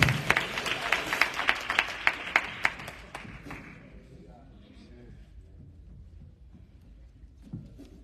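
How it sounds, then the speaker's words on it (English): A church congregation gives a round of hand clapping, a few sharp, evenly spaced claps ringing out before fading into murmured voices and quiet room noise. "Y'all give a hand clap to Pops."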